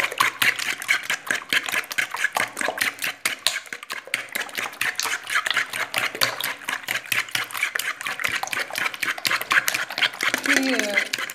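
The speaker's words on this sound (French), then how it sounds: "ici dans un récipient j'ai 8 œufs. Je vais les fouetter." Eight eggs whisked in a bowl: a fast, steady rattle of whisk wires clicking against the sides, continuous and fairly close throughout.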